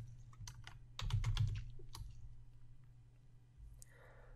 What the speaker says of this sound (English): Click somewhere in the canvas and type out a word such as lake.